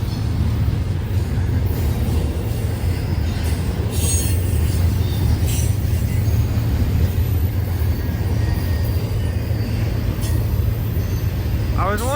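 A train passes close by at a rail line in St Joe or Garrett, Indiana, with a loud, continuous rumble and rattle of railcars throughout and a brief wheel squeal near the end.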